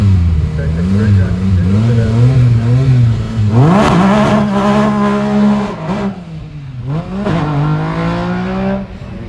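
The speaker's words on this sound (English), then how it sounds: "Acceleration in that car is unbelievable." A race car at a speedway accelerating hard, its engine note climbing in repeated rising sweeps as it passes through the gears, loud and close, with a voice talking over part of it.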